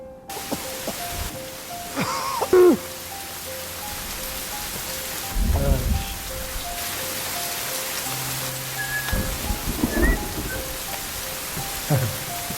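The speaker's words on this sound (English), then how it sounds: "it suddenly started to rain" Rain falls in a tense thriller film scene, a steady broadband wash of drops throughout, with scattered thuds and faint tonal sounds breaking in over it.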